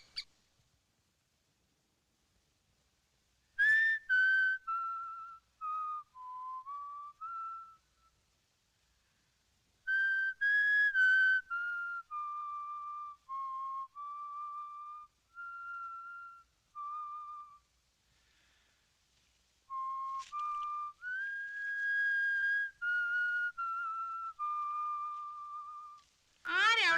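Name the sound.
a person whistling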